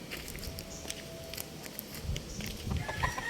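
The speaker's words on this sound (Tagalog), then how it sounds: "bisitahin natin tong mga ating alagang mga panlaban" Gamecock roosters being raised for fighting cluck and crow in a farmyard. Several calls overlap at moderate distance, with a louder crow rising near the end and a few faint footsteps in between.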